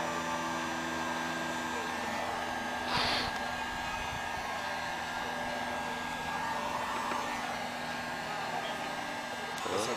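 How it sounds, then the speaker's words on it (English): A heat gun blows steadily while softening and peeling a vinyl wrap off a car roof, a constant loud airy whoosh with a brief louder burst midway and faint talk underneath. "I'm gonna use the heat gun and we're gonna start pretty much in this corner"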